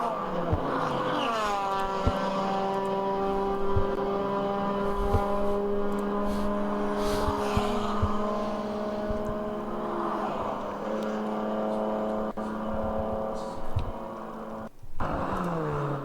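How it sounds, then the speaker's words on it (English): Endurance race cars thunder past at Daytona during the ChampCar 14-hour race, heading off the high bank toward the bus stop chicane, a continuous loud engine drone with shifting pitch and overlapping cars. "A look at the cars as they come down to turn 10 off that high bank into the bus stop chicane."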